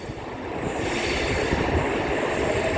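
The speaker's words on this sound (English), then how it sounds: "Yes, here it comes, the train." A Sydney Trains suburban train arrives at a station, rolling in with a steady rumbling roar that builds, wheels grinding and a faint squeal over the rails, close and loud.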